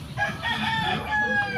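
A rooster crows once, near and loud, a drawn-out call standing alone without talk.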